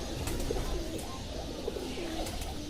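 A pigeon coos softly close by in short repeated phrases while being handled, with a dull low background rumble and no talking.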